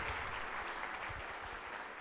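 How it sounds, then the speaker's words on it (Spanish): An audience applauds a lecturer at the end of a talk, a dense, fairly faint patter of many hands clapping continuously throughout. "Un fuerte aplauso para nuestro conferencista."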